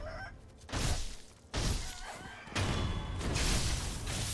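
A chicken in the video game Sekiro clucks and squawks in short bursts, each followed by scuffling game effects, fairly close and loud against a noisy in-game background.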